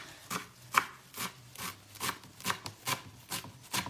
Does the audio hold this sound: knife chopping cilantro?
yes